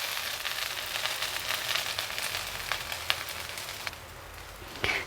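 Mint leaves sautéing in a pan for a Tamil mint pickle give off a soft, steady sizzle, with a few faint crackles and pops now and then.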